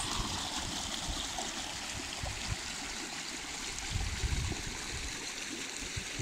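Clear glacier meltwater stream flowing steadily in the Shigar valley of Gilgit-Baltistan, a continuous close rushing and gurgling wash with no voices.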